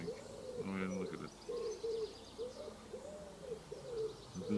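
Birds, apparently doves or pigeons, call at dawn outside in Oxford, UK, with soft repeated coos in a regular pulsing rhythm, faint and distant, over quiet background.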